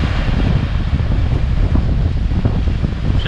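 Powerful ocean surf and strong wind on the Tenerife coast, a loud, continuous roar of rough sea and gusting air close to the microphone with no talking.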